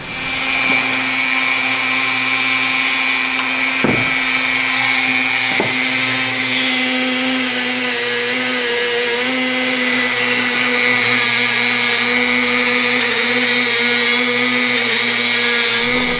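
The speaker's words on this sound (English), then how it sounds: "just off the buffer, looking pretty good" A buffing wheel polishes a copper handle from a hundred-year-old safe, giving a loud, steady motor whine with a high hum that runs without a break and shifts only slightly as the piece is pressed.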